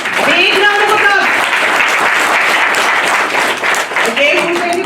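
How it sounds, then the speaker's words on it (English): Applause from a seminar audience fills the room with dense, steady clapping, while voices cheer and call out over it at the start and again near the end. "Big round of applause for Anuradha."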